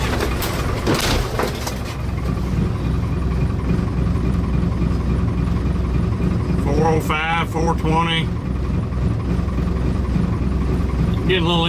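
A first-generation Dodge Cummins diesel engine idles slow and low in roughly -7°F cold, not plugged in, just after a cold start. A steady, close rumble runs throughout while a person talks over it.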